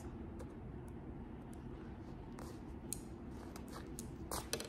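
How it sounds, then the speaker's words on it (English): Scissors snipping vinyl from a glitter appliqué on a satin baseball jacket: a few faint, sharp clicks and snips scattered over a low, rumbling background. "of course I go get the scissors and cut"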